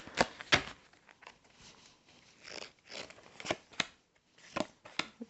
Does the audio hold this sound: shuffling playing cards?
yes